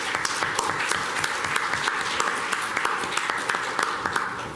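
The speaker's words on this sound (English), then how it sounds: "a round of applause for Bobby Verdugo" Steady applause from a conference audience greeting a speaker at a mental health summit, dense and sustained clapping throughout with sharp individual claps standing out, no talking over it.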